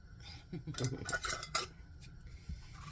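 Metal canning lids and bands screwed onto glass pint jars of home-canned chicken broth: a brief burst of close metallic scraping and clinking, then near quiet.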